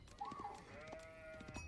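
Sheep in the video game Age of Empires IV bleat once, short and fairly faint, over a quiet game soundscape with soft ambient tones.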